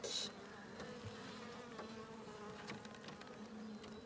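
A dense, steady hum of many honeybees buzzing close together at a horizontal hive, with occasional clicks and knocks of frames being handled nearby.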